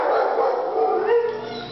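A puppy yips and whines in a high, tonal run of short cries, close and fairly loud, with no speech over it.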